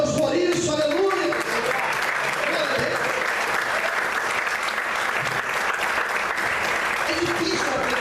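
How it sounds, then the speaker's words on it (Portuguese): Church congregation applauding and cheering in a dense continuous wash of clapping, loud and sustained, with voices mixed into the crowd sound. "Você pode aplaudir a Deus por isso, aleluia."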